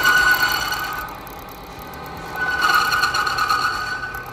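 A motor treated with SUPERKOTE 2000 runs steadily with a continuous mechanical hum that dips slightly, then swells again, heard alone without talk.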